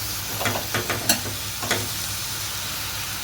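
Amaranth leaves (thotakura) fry in an open, uncovered pan with a steady sizzle, broken by a few short scraping stirs near the start before the frying settles into an even hiss.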